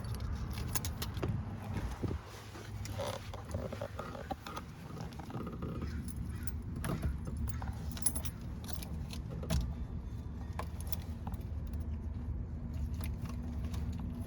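A ring of keys gathered from a junkyard jingles and clicks while each is tried in the ignition of a Toyota Celica, over a low steady rumble inside the car; the metallic rattles come close, in short irregular bursts.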